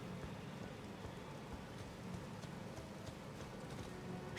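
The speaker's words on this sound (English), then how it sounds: "Ride my horse." A horse clip-clops steadily under a rider in the video game Elden Ring. The hoofbeats come as soft, continuous, fairly faint patter with a diffuse, rain-like texture, and no one speaks.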